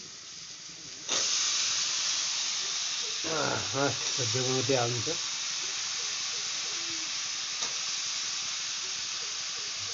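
A sharp burst of sizzling hiss erupts after a second and holds steady as tempering spices crackle in hot oil for a brinjal curry, with a voice speaking briefly over it.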